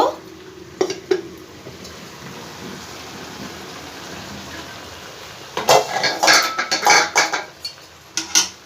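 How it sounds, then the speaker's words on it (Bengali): A lid is lifted off a pot of mixed vegetables cooking over a medium gas flame. A steady simmering hiss gives way to a burst of close metallic clatter and clinks. "এবার একবার ঢাকনাটা খুলে দেখব"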